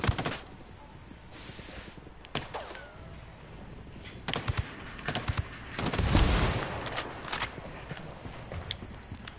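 Gunfire in the video game Ghost Recon: scattered sharp cracks and short bursts of shots at varying distance, with a heavier rumbling blast near the middle and no talking.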